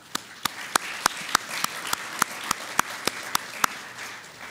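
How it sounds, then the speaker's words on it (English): Audience applause at a university research prize and medal ceremony, a steady wash of many hands with a dozen sharper claps standing out at an even pace over about four and a half seconds, moderately distant and free of speech. "A round of applause, please."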